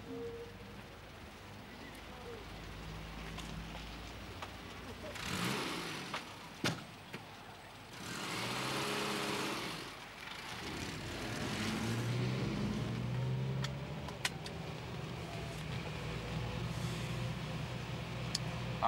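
A car engine starts and pulls away outdoors, a steady motor rumble swelling and fading over several seconds, with a quieter engine hum continuing under background sound.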